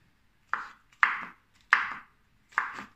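Knife chopping oyster mushrooms into thin julienne strips on a board: four crisp, close cuts spaced about half a second apart, with no voices.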